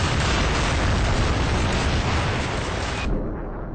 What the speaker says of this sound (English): Commander Angelus from net now bringing in the artillery